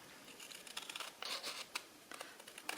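Quiet, crisp snipping and crinkling as scissors cut through card, short irregular bursts close by with small pauses between cuts.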